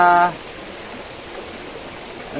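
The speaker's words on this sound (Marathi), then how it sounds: "धबधबा जो बाराही महिने वाहतो" A year-round waterfall gives a continuous, even rushing roar that holds steady after a brief louder moment at the start.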